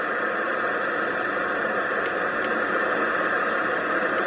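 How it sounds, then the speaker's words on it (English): A white noise machine set to its white noise mode gives off a steady, even hiss with no rhythm or change, fairly soft and unbroken for the whole stretch. "I can go to white noise."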